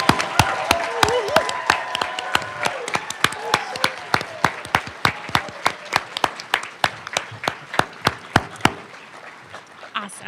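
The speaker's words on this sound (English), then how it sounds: "take a moment and let us applaud you" Sustained applause from an audience at a spring senior awards ceremony, dense clapping with a steady run of sharp near hand claps standing out over the crowd for about ten seconds, then tapering off at the end.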